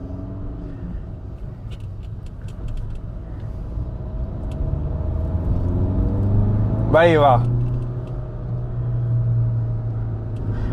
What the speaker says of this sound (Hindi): स्पोर्टी सी फील आ रही है इंजन में से, जो नॉइज आ रही है ना वो भी स्पोर्टी टाइप आ रही है